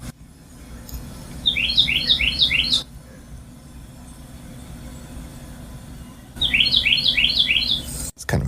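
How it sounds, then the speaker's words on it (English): Birds sing in a backyard beside a farm beyond the fence, heard through an open window: two bursts of rapid high chirping trills, fairly clear, over a low steady rumble of background noise. "You might be able to hear some happy birds."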